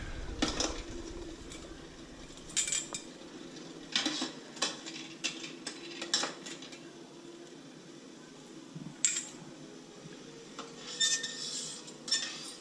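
Metal canning jar lids are scooped out of a pot of boiling water in a home kitchen, producing scattered clinks and metallic clatters in short bursts over a steady low hum, with no talking.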